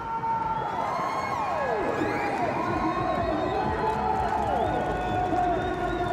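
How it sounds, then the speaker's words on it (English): A seaside crowd in Polignano a Mare, Italy, roars and cheers for a local cliff diver at a Red Bull Cliff Diving event, a steady wall of shouting and whistling with rising and falling voices and scattered clapping. "Crowd's going to go wild. Listen to this."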